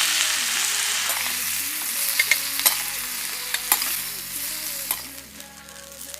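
Onion and tomato fry lightly in mustard oil in a pan for an aloo do pyaza, giving a steady close sizzle with scattered stirring scrapes and small clicks, no voices.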